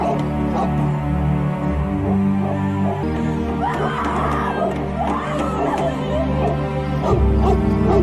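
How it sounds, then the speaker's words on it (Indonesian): A dog barks and yips repeatedly over a steady bed of music and background voices, its barks mixed in rather than standing alone, with a louder low rumble near the end. "Bu pun juga cuma bisa gonggong-gonggong aja"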